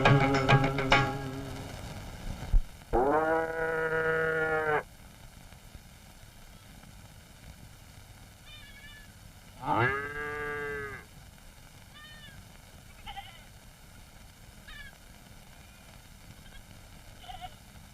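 A cow in a cattle shed gives two long, loud, drawn-out moos several seconds apart, with faint rustling and distant sounds in between.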